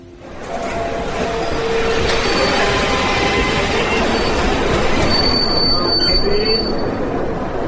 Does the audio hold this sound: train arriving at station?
yes